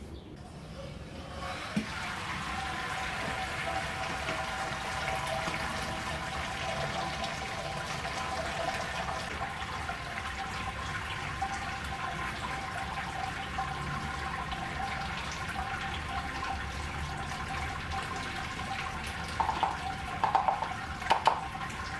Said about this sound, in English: I'll probably sparge to about the 29 litre mark in the Robobrew.